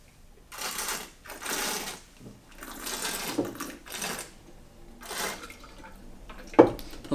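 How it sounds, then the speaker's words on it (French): Several bursts of airy, bubbling slurping as a wine taster draws air through wine in the mouth to aerate it, repeated in short rhythmic sessions with brief pauses between. "Donc on insuffle de l'air pour aérer le vin, pour casser les molécules"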